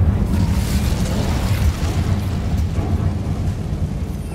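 Incendio fire spell cast in Hogwarts Legacy, a steady, dense whooshing roar of flame that stays loud and even throughout without pause.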